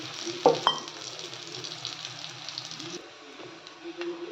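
Green gram flour thalipeeth frying in oil on a hot pan sizzles steadily, with a couple of sharp clinks and stirring sounds near the start, quiet and close with no talk.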